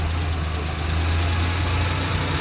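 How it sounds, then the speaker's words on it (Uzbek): Car engine idling after a carburetor repair, a steady low mechanical hum with a faint regular knock, close and even, no voices. "Mana karburatorimiz tayyor bo'ldi, endi qo'yib yurgizamiz"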